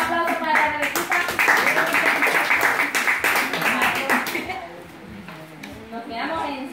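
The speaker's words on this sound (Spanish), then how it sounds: "Yo un aplauso para la Rebequita." Guests clap for a girl at a child's birthday party over loud, overlapping voices and singing, with a dense stretch of clapping that thins out toward the end.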